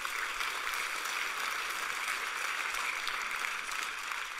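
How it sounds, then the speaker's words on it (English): Congregation applause at a church service, a steady wash of clapping held at an even level throughout, filling the room without a break. "amen, if you want to applaud the Lord there."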